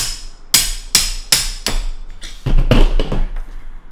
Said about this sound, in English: this might sound terrible because I'm going to use this hammer now